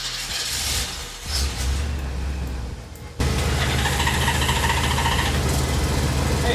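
A Honda Goldwing motorcycle with a dead battery, jump-started from an Oldsmobile, catches suddenly: a low, steady engine rumble jumps to a louder, fuller running roar that holds steady to the end.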